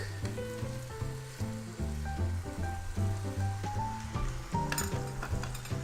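Garnish sautéing in a hot pan for a Milanese schnitzel, a steady close sizzle with frying crackle running under prominent background music.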